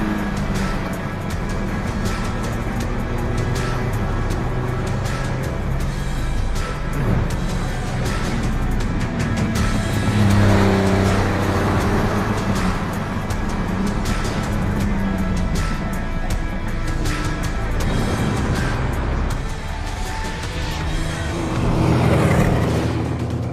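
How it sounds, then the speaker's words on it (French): A Porsche 911 Group 4 race car driven hard on a track, its engine roaring steadily throughout with rising and falling revs, loud and close. "Thierry passe aux choses sérieuses et montre à François ses talents de pilote."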